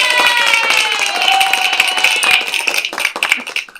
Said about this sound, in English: let's give me an applause for finally launching